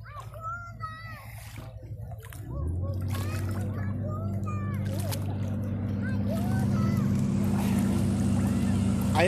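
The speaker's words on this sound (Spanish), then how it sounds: "Ahí viene la lancha, ya los va a rescatar." A motorboat engine drones low and steady, growing louder as it approaches on the Rio Bravo, while children and adults talk and call out in Spanish over the water.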